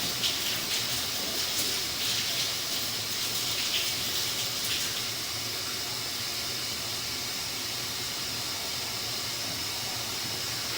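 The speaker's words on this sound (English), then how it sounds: "I think I'd rather run it through that stationary tub." Water gushes from a faucet into a stationary laundry tub, a loud steady hissing rush that runs throughout, brighter and splashier at first and then settling into an even flow.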